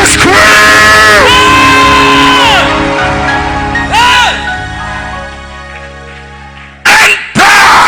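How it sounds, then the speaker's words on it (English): A church congregation screams and yells loudly together, with overlapping high, drawn-out cries that fade through the middle, then two more sharp bursts of shouting near the end. "somebody scream!"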